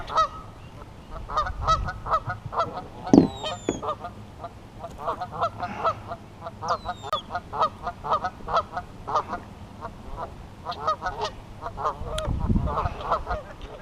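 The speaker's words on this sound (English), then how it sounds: "Sorry about the geese. I know they're annoying." Geese honking around a lake while kayak bass fishing: a steady chorus of repeated nasal honks from several birds, fairly near and continuous, with a few louder calls standing out.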